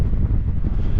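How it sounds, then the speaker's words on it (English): Strong headwind buffeting a microphone while cycling near Home Moss, a loud, low, continuous rumbling roar with gusty fluctuations and no talk. "it's a headwind"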